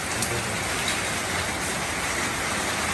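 Rain pours onto a corrugated zinc roof in a dense, unbroken patter, a loud, steady hiss of countless drops with no pauses and no voices.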